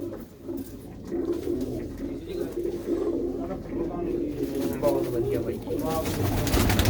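Pigeons coo in low, soft, repeated rolls inside a coop, close by, under someone talking through most of it.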